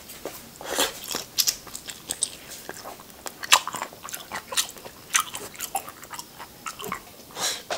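A fresh large prawn, rinsed in cold water, is bitten and chewed up close, with a run of crisp, crunchy bites and wet chewing repeating unevenly and with no talking.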